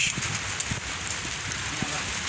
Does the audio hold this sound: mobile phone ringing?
no